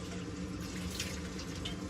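Tap water runs steadily into a sink while a container is rinsed out inside a camper van, a continuous close splashing hiss with no talking.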